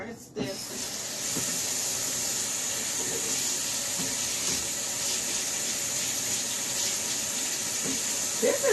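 Running tap water rinses pulp from a juice strainer: after a brief clatter, a steady hissing stream flows into the sink for several seconds.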